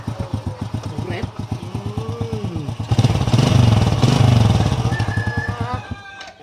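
A motorcycle engine idles while being warmed up, chugging in a steady, rapid putter up close and swelling louder in the middle before dropping off near the end, with voices mixed in.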